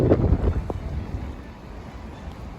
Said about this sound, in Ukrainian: як дує в камеру